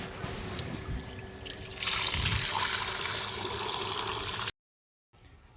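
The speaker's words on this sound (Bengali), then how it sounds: "আমি মাংসটা ধুয়ে রেডি করে নিই" Water runs steadily from a tap while raw meat is washed, a close splashing stream that grows fuller partway through, then cuts off abruptly into silence.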